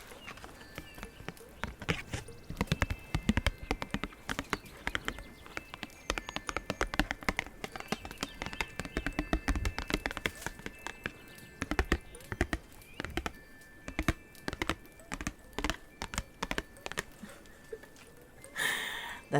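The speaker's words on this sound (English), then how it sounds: "That's the sound of the cards." Tarot-style reading cards handled up close in a quiet ASMR setting, giving a steady run of soft taps, flicks and shuffling clicks that continue throughout, with a brief louder rustle near the end.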